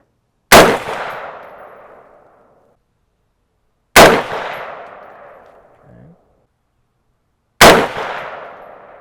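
Three loud, sharp rifle shots from a Palmetto State Armory 6.5 Grendel upper at an outdoor range, spaced about three and a half seconds apart, each a close crack followed by a decaying ringing echo.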